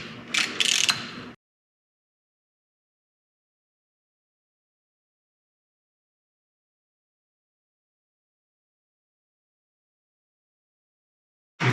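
A socket ratchet clicks briefly while tightening the axle hub studs on a Roxor, a short close burst of rapid ratcheting followed by long silence, with another brief click at the very end.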